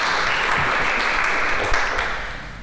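Audience clapping steadily through the clip at a historical society evening of loggers' songs and stories, following a performed song; dense, even applause from a room of listeners, with no talk over it.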